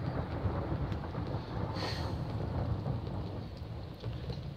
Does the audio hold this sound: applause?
no